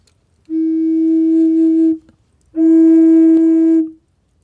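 Double drone flute sounds two separate steady, pure tones, each held about one and a half seconds with a short gap between, close and clear with no talk.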